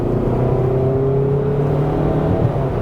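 A Kia with a rebuilt short block engine accelerates hard with the pedal floored, a loud steady engine drone rising slightly in pitch over nearly three seconds, close by with no talk.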